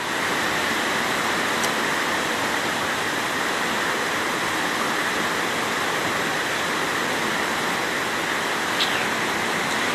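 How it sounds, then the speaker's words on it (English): Floodwater rushing through a flooded housing scheme in St Catherine, Jamaica, a loud, unbroken roar of water that holds steady throughout with no voices. "It's not a river, it's a flooding."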